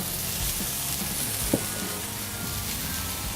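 Burgers sizzle steadily on a grill griddle, a constant crackling fry with a small tap or scrape partway through, no voices over it.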